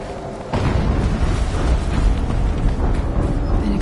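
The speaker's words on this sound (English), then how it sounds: "An explosion." A sudden explosion erupts with a sharp onset, then rumbles on as a dense, sustained roar of debris and noise for several seconds, loud and close with no talking.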